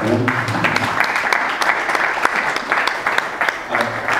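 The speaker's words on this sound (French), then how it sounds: "Est-ce qu'on peut applaudir très fort pour Colette?" An audience at a book launch breaks into sustained applause, a dense, loud wash of many hands clapping that carries on steadily, with a voice briefly heard at the start.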